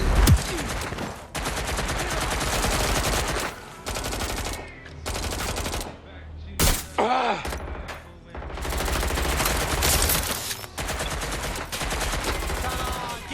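Watch Dogs Legion gunfire in rapid automatic bursts, loud and close, broken by short pauses and a few sharp single shots, with no talk over it.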